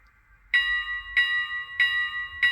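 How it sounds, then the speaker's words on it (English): Bell of big steam locomotive No 41 rings four times in a steady, even rhythm, each clear metallic strike ringing on briefly before the next, loud and close with no talk over it. "We have what I always think is very famous, the bell."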